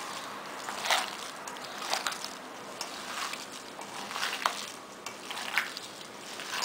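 Gloved or bare hands squelch and knead ground burger meat with chopped onion, producing soft wet squishes in an irregular rhythm, close and fairly quiet.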